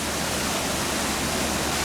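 A waterfall in a Sumatran tiger enclosure at a zoo gives off a dense, even roar of rushing water, loud and close, with no voices over it.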